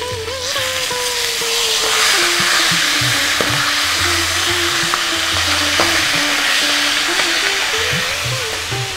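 A fish head fries in oil in a covered pan, giving a loud continuous sizzle and crackle throughout, with occasional stirring scrapes and clinks.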